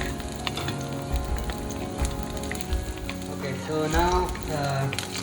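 Tomato mac frying and being stirred in a pan, a steady close sizzle with scraping stirs throughout and a brief spoken line near the start.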